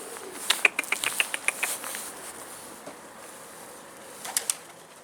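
Pigeons in a coop make sharp flapping and scuffling sounds in a quick cluster, then a quieter stretch and a final short burst, set against soft background noise.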